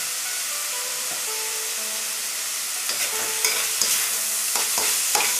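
Pork and spices cook in a hot pan with sesame oil, salt and pepper, making a steady hiss of frying; sharper clatters and scrapes from stirring come in during the second half.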